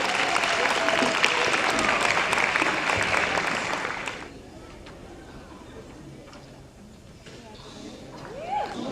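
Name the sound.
audience applause for symposium first place winner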